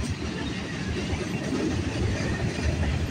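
A CN freight train rolls past close by in a steady, loud wash of rumble and wheel noise that runs unbroken through the whole stretch, with no voices.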